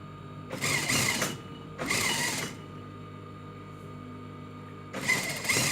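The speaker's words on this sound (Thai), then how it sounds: "ตอนนี้มันเย็บได้ทุกอย่างนะคะ ยีนอะไรก็ได้ ผ้าบางผ้าอะไรเพราะเราปรับไว้สำหรับ เย็บผ้าบางด้วยนะ" A sewing machine set up for thin fabric runs in three short, loud bursts of rapid whirring stitches, with quieter pauses between runs.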